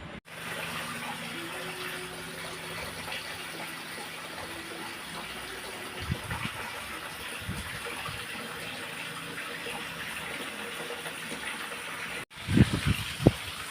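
Balut eggs being washed in water, a steady running-water wash that continues throughout, ending in a few close knocks and splashes.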